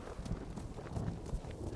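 Horse hooves clip-clopping in Ghost of Tsushima, a steady run of soft thudding steps at moderate distance under faint ambient noise.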